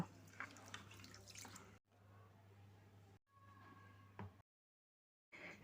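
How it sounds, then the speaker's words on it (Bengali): Cloudy rinse water from washed Gobindobhog rice poured out of a bowl in a kitchen, a quiet watery splashing and trickling that starts and stops in a few short bursts, with a brief clatter near the end. "দেখুন জলগুলো কেমন ঘোলা হয়ে গেছে এবার এই জলগুলো আমি ফেলে দেব"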